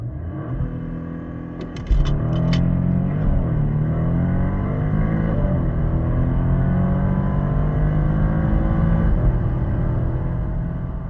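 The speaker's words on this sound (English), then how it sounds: "Time to measure." A Porsche Panamera 4 launches with launch control from about 5,000 rpm and accelerates to 100 km/h. The engine roars loudly and close, rising steadily through several gear changes, and there is no talk.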